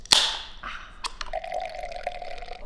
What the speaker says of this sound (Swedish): man häller i den här ölen